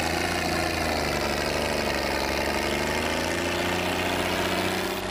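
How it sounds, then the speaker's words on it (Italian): Tractor engines run loudly and steadily at a farm demonstration of new and old tractors, a constant low rumbling idle with no talk over it. "Oggi qui proviamo i motori nuovi, quelli vecchi"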